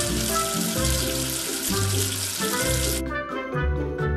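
A cartoon-style rush of running water pours steadily as soap is rinsed off a number, bright and hissy, with bubbly low tones underneath, then cuts abruptly near the end to a few bubbly, gurgling blips.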